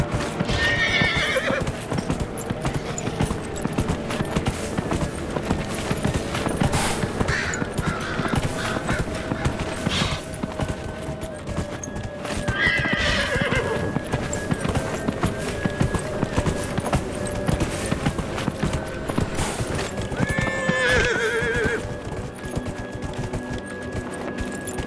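Horses in Dragon Age Inquisition neigh and whinny several times over steady clip-clopping hooves, with the whinnies recurring every few seconds against a busy game soundscape.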